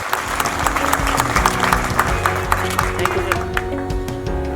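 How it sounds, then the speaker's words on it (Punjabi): Schoolchildren at a government school event applaud together, a dense, steady burst of clapping from a crowd lasting throughout, fairly loud and close. "ਬੱਚੇ ਤਾੜੀਆਂ ਮਾਰੋ।"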